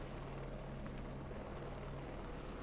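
A helicopter in the Heliborne combat flight game drones with a steady rotor thrum and low engine hum, continuous and fairly faint, with no talking over it.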